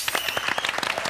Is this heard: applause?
yes